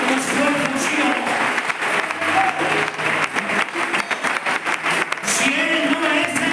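A church congregation applauding during a sermon, loud sustained clapping that swells, dips briefly in the middle and rises again, with voices mixed into the crowd.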